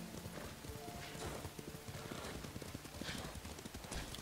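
Horse hooves galloping under a rider in Ghost of Tsushima, a steady rapid clip-clop running throughout, close and moderately loud beneath game music and ambience.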